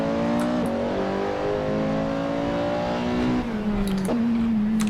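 Porsche 918 hybrid hypercar driven in the Assetto Corsa racing game: a steady, loud engine drone holding pitch, with brief dips and rises as gears shift and the revs climb again, heard alone without talk.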